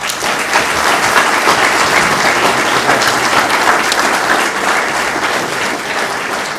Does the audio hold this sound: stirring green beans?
no